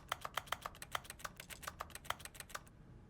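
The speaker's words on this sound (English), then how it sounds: "Every time I click the mouse button, it sounds like a keyboard." Mouse-button clicks in a video game sound like keyboard typing, a quick irregular run of close, crisp taps lasting a few seconds before stopping, with no voices.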